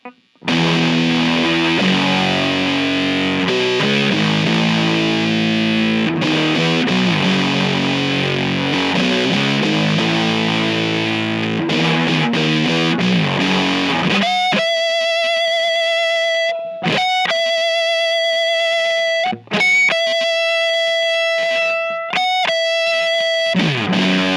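A heavily overdriven Squier SP-10 electric guitar with series-wired humbuckers plays dense distorted chords, then shifts to sustained ringing notes with brief gaps between them, loud and close throughout.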